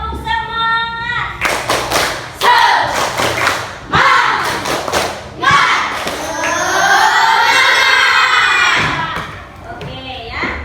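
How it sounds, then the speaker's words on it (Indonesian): A classroom of children performs a rhythmic spirit clap, sharp patterned claps and thumps in bursts, with children shouting and chanting loudly between and over the beats. "1, 2, 3. Tepuk semangat."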